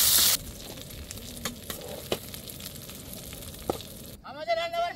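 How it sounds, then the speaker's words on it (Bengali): Eel fish fries in a pan at a riverside picnic by the Damodar river, crackling and sizzling steadily up close with a few sharper pops, before a voice briefly cuts in at the end. "সেই মাছ আমি ভাজতেছি, সেটা বান মাছটা? হ্যাঁ, বান মাছ ভাজা হচ্ছে।"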